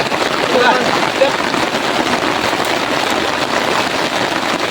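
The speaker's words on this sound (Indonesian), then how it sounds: "jadi seperti inilah kalau terjadi hujan" Steady rain falling in a forest, a dense continuous hiss of drops on leaves and ground, close and even throughout with no break.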